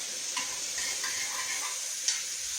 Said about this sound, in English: let's get these onions kind of softened up a little bit